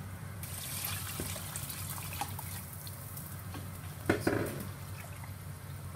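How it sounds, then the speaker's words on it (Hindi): Water is poured into a pot of mixed dal and mutton, about three to four glasses, making a steady, close splashing trickle that runs under a constant background hum, with a brief louder splash near the end. "अब मैं इसमें पानी डाल दूंगी तकरीबन 3 से 4 गिलास"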